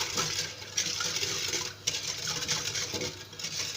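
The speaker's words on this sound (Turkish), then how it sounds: "diğer tarafta bahsetmiş olduğum şekerimi suyla karıştırıyorum" Sugar being stirred with water in a pot for flour halva, a steady wet scraping and swishing with light clinks of utensil against the pan, close and fairly loud.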